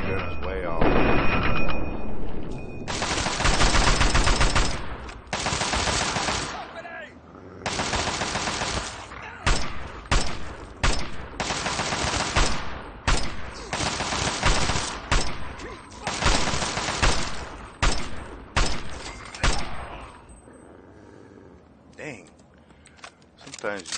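Fallout 3 player's gun fires repeated loud bursts of rapid automatic fire, each burst crackling for a second or two before brief gaps, keeping up a steady close-range barrage.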